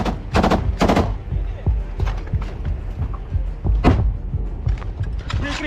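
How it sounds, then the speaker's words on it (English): Combat in an urban assault with a grenade thrown as troops clear toward a basement, heard as repeated loud sharp gunshot bursts near the start and a heavy thud later, over constant rumbling background noise. "Another grenade is thrown."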